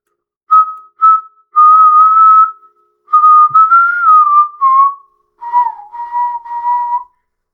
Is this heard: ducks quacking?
no